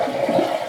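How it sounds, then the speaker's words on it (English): A toilet flushes with a short, steady rush of water that fills the whole moment, close by and alone, with no voices. "So we're going to flush it again."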